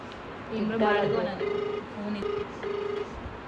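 A telephone call rings out over a speakerphone during a prank call, a steady electronic tone repeating in several short bursts at moderate loudness with no talking over it.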